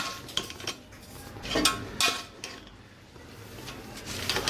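Vegetables stirred in a large full cooking pot for a home-style Rishi Panchami fasting dish, giving irregular metallic scrapes and clinks of a utensil against the pot, with a few louder knocks, close by and without talk.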